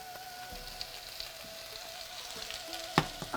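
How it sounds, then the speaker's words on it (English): Vegetables fry in hot oil in a preheated skillet for chan chan yaki, giving a soft, even sizzle with a faint hum beneath and a sharper clatter of contact near the end. No voices. "The oil has come up to temperature, so we're just going to add in our vegetables here."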